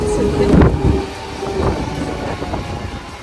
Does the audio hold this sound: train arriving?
yes